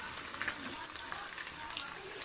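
Chopped sayote hits ground meat frying in a pan, giving a faint, steady sizzle with a few soft crackles and stirring taps.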